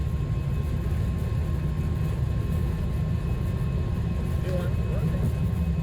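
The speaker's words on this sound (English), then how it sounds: "we just let the aircraft accelerate" An Airbus A320 accelerates down the runway for takeoff, its engines and rolling rumble heard as a loud, steady low roar from inside the cockpit, with voices talking under it.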